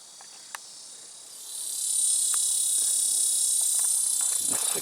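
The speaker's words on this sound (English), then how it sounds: "These cicadas are driving me nuts." Cicadas buzz in the hot Arizona desert, a steady high-pitched drone that swells from moderate to loud partway through and then holds constant, with faint scattered clicks beneath.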